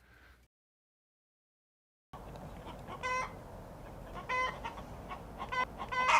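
Chickens cluck and squawk among farm livestock in a field, several birds calling in irregular bursts at moderate distance after a brief quiet gap.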